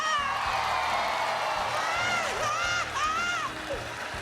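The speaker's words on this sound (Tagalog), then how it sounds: "Magpalakpakan na may kasamang sigawan!" A studio audience at a live Filipino noontime variety show claps and cheers loudly and continuously, with whoops and shrill shouts rising over the steady roar of the crowd.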